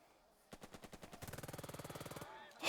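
Rapid machine gun fire in the video game Burden of Command, a slower string of shots speeding into a fast, evenly spaced burst of about two dozen rounds, fairly quiet and alone.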